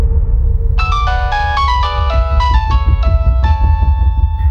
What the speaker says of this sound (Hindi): ये बार बार किसका फोन आ रहा है बेटा?